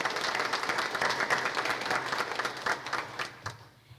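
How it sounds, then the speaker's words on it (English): A crowd claps in a sustained round of applause at a county fair gala, dense and steady, then thins out and fades near the end. "Let's give Sue a round of applause."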